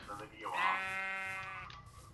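Sheep in a video game giving one long, close, wavering bleat of about a second and a half, heard alone and clearly.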